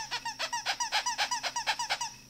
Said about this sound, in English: They can be punctured and will still squeak over and over again.